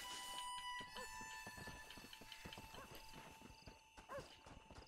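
Horse hooves clip-clop in a fast, steady trot through a Red Dead Redemption game scene, with a constant tonal hum of background music beneath the rapid hoofbeats.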